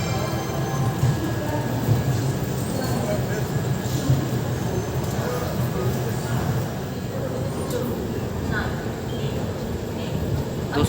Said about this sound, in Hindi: आपको इस ट्रेन का कानपुर सेंट्रल से डिपार्चर दिखाते हैं।